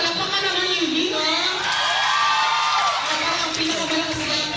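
A crowd at a school event in the Visayas erupts with cheering, whoops and yells for University of the Visayas, a dense, loud roar that swells in the middle and holds steady throughout.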